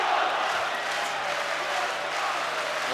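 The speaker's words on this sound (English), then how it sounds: "The crowd trying to lift him" A large boxing arena crowd of about 25,000 fans at a world title rematch cheers steadily throughout, a dense, sustained roar with no pauses.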